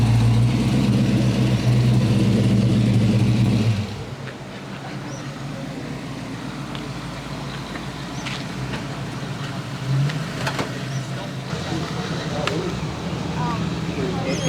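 A Chevrolet C10 step-side pickup with aftermarket exhaust idles nearby at a hot rod car show, a low steady rumble that drops in level partway through, with crowd chatter and voices over it.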